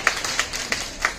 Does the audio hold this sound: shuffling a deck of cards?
no